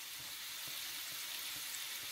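Jamaican dumplings frying in hot oil, a steady close hiss and crackle with a soft bubbling underneath that stays even throughout, no voices.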